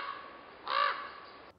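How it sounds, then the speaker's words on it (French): A crow gives a single loud, harsh caw lasting under half a second against faint outdoor background noise. "qu'est-ce qu'il y a le corbeau là? La cormeille."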